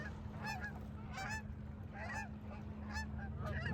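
Several Canada-area geese in Toronto honk in repeated bursts of two or three calls, fairly distant and soft, over a steady low hum.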